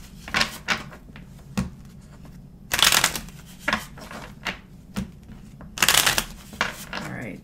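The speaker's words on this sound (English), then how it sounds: "Hold on, I'm going to shuffle one more time" Tarot cards shuffled by hand at close range, with several loud riffling bursts and softer shuffling and tapping between them, recorded alone with no talking.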